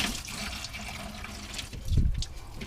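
Engine coolant pours from a loosened lower radiator hose into a catch pan beneath, a steady splashing trickle that swells briefly near the end, close and moderately loud with no talk.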